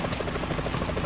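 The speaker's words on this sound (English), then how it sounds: "Is that a chopper I just heard?" Helicopter in the video game Metal Gear Solid 2, a steady thumping rotor drone that holds loud and continuous throughout with no voices.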